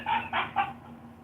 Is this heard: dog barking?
yes